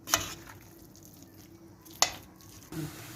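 Potatoes are sautéed in a pan, with a low continuous sizzle broken by a few sharp scrapes and clinks of a utensil stirring against the pan.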